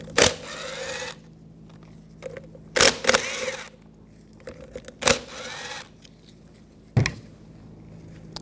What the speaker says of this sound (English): Using a 10mm socket, we're going to take these 3 nuts off.